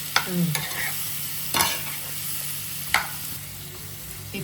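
Banana laddu mixture is stirred and fried in a pan, with a soft continuous sizzle broken by a few sharp spoon scrapes against the metal, close and clear.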